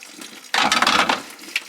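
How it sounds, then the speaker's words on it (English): Water gushes from an RV fresh water system's low point drain under pressure, a sudden loud splashing rush that starts abruptly and keeps pouring close by. "And now there's more water coming out."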